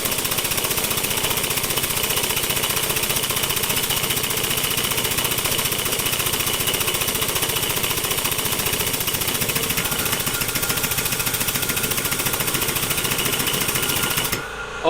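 A Kobalt Quiet Tech air compressor runs steadily and fairly loud, a dense continuous mechanical rattle and hum with rapid pulsing, stopping abruptly at the very end, with no talking.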